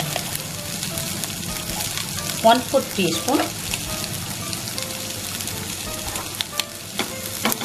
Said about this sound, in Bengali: আমি এটাকে খুব ভালোভাবে নাড়িয়ে নিচ্ছি আমি।